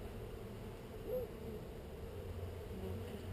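Honey bees humming inside an open hive during a beekeeping inspection, a steady low buzzing drone that holds throughout, fairly faint, with no talking.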